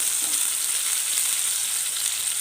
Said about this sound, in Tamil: இந்த பச்சை மிளகாவை வெங்காயத்தில் போட்டுக்கிறேன்.